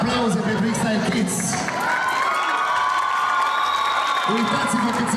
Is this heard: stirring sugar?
no